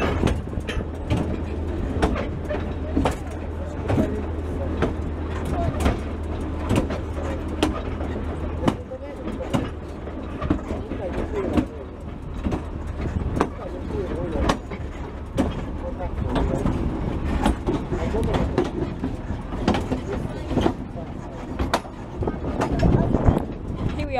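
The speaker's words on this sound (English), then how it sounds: "Here comes the train now." A heritage railway train on the Nagycenk museum line in Hungary rumbles steadily along the track, with continuous wheel noise and rhythmic clickety-clack beats throughout and no talking.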